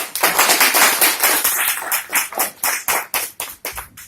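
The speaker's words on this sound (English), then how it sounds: "Give her a round of applause." Audience clapping at a brown bag talk session, a dense burst of applause that thins into separate, irregular claps before fading out, close and fairly loud, with no talk over it.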